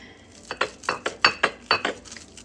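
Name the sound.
knife cutting a crispy toasted patty melt sandwich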